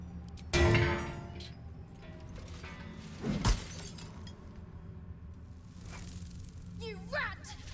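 Glass shatters in the fantasy role-playing game Baldur's Gate 3: a loud smashing crash near the start, a second impact a few seconds later, then a quieter stretch with a brief chirping call near the end, all over a low game backdrop.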